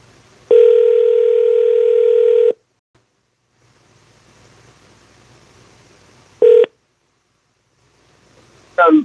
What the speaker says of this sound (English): Marlon, the phone line up and running now